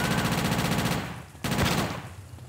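Rapid automatic Tec fire in the GTA Chinatown Wars video game, a loud sustained burst that cuts off, followed by a second short burst after a brief pause.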